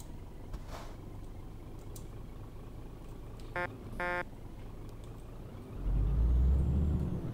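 A truck engine in Euro Truck Simulator 2 idles as a low rumble, with two short harmonic hoots like a horn in the middle, then the revving swells louder and deeper as the driver accelerates near the end.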